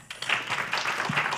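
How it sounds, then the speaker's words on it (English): Audience applause at an occupational therapy program pinning ceremony, a dense patter of many hands clapping steadily and fairly near, with no voices over it. "So I want us to please give ourselves a big round of applause."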